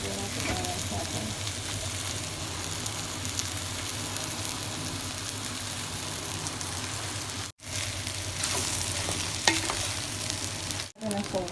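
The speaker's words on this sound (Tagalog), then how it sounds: "Lagyan natin ang rice natin." Cooked rice being stir-fried for fried rice in a pan, a steady close sizzle with scraping stirs running throughout, broken by two brief pauses, no talk.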